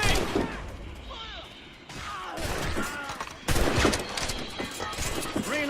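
Gunshots in Assassin's Creed Rogue: several loud, sharp musket cracks and crashing impacts break through the clip, with shouted voices between the shots.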